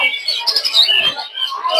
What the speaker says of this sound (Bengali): এগুলো হচ্ছে ফিঞ্চ পাখি